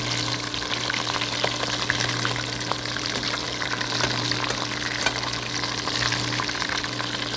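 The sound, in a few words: rolled food frying in oil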